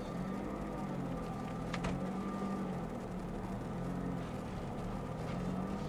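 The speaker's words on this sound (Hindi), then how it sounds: "तो चलिए फिर इसकी टेस्ट ड्राइव शुरू करते हैं।" A Chevrolet Aveo U-VA LT with hydraulic steering, at 80,000 km, pulls away in first gear: a steady low engine hum and road rumble, constant and moderately quiet, with a brief higher click partway through.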